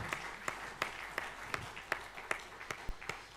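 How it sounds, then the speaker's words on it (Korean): A church congregation gives a brief round of applause during a Sunday worship service, sparse distinct claps spaced out in a slow, uneven rhythm, faint and somewhat distant in a reverberant hall. "우리 박수로 하나님께 영광 돌리겠습니다."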